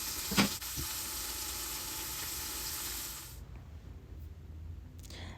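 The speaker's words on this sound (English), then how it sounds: "And now I'm adding in this bell pepper." Bell pepper sizzles steadily in a hot pan with garlic; the frying hiss runs loud for about three seconds, then drops to a quieter crackle after a brief clatter.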